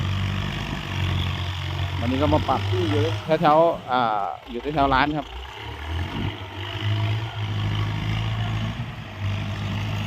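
A Kubota M9000 turbo intercooler tractor engine runs gently at low revs, a steady close diesel drone that continues throughout while someone talks over it in the middle.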